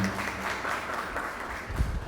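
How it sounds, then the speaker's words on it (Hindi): Audience clapping at a spiritual birthday and Raksha Bandhan celebration, a steady mid-level patter lasting about two seconds with a few louder bursts near the end. "एक बार फिर से जोरदार तालियां बजाएंगे"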